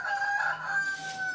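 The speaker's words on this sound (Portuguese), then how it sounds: "Repara as galinhas cantando" Loud, near crowing from chickens, one long sustained tonal call that holds its pitch and fades slightly toward the end, alone without speech.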